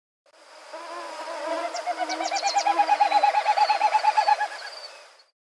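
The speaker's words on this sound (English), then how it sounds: "Everybody knows the winnowing call of a Wilson's snipe" Winnowing call of a Wilson's snipe: a hollow, pulsing whistle that speeds into a rapid, wavering series of beats, swelling loud and close before fading away, heard alone.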